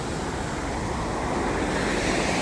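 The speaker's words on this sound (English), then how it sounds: "The sea come right across the road." Rough Caribbean sea surf in Jamaica, driven by a tropical wave, crashes and washes over a coastal road in a loud, continuous roar mixed with wind buffeting the microphone.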